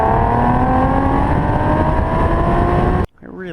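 Car exhaust roaring under hard acceleration on a race track lap, a loud steady drone with rising pitch that cuts off abruptly near the end, followed by someone talking.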